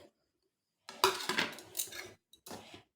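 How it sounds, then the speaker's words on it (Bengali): Gram flour and rice flour being stirred together in a bowl, a quiet silence broken by a couple of short bursts of scraping and clinking as a spoon works through the dry mix. "সবগুলোর মিশ্রণ ভালো করে মিশিয়ে দেব।"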